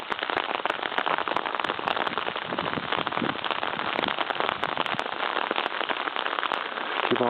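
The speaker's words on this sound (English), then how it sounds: "Stupid rain." Steady video game rain hisses continuously, a dense, even wash of falling drops with faint crackles, with no pauses or talk.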